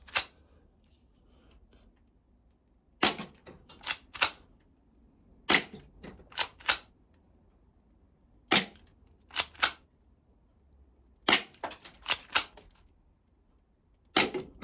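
A spring airsoft pistol fires a series of sharp, dry snapping shots, sometimes single and sometimes in quick clusters of two to four, with quiet pauses between them and no talking.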